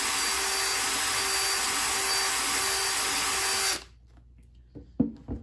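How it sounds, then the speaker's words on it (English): Power drill boring out a pellet hole in a duck decoy, running loud and steady with a high whine for nearly four seconds, then cutting off, followed by a few faint handling knocks. "Go right on top of that pellet hole"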